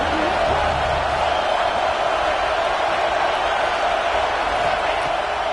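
Football stadium crowd at a USC game, a dense steady roar of cheering during a third-down red zone play, loud and continuous without a break.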